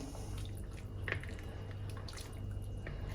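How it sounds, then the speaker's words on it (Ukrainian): A pot of chicken soup with amaranth groats and cauliflower and white cabbage simmers at a boil, giving a soft, steady bubbling and occasional drips over a low hum, faint and continuous with no voices. "І так, наш супчик, можна сказати, що готовий. Кипить."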